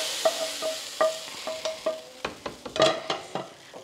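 Garlic and curry leaves fried into a tempering are tipped into fish curry and stirred, giving a soft sizzle broken by a steady run of short, close scraping and clinking strokes, with no talk.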